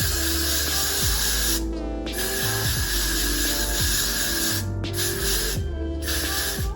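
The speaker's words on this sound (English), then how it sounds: "I'm gonna just spray the lace with some Got To Be." Got To Be spray pumped onto the lace of a 4x4 dyed wig, loud, close hissing sprays in repeated bursts with short pauses between them.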